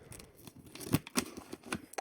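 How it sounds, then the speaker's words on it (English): Scissors snip open a paper-wrapped package up close, a few crisp cutting clicks and crinkles in an irregular rhythm, quiet overall with two sharper snips near the middle. "Instead of tearing it open, I'll use the scissors here."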